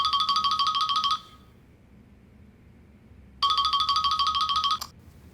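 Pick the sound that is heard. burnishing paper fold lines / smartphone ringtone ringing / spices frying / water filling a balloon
smartphone ringtone ringing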